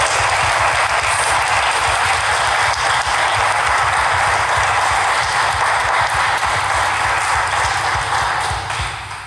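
Loud, sustained audience applause fills a hall after a Nativity play performance, dense clapping carrying steadily for several seconds before easing slightly at the end, with no talk over it.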